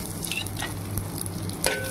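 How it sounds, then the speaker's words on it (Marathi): Long-sliced onion fries in hot oil for tempering, giving a steady close sizzle with brief scraping stirs and no talk. "आता आपण कांदा घालणार आहोत फोडणीसाठी"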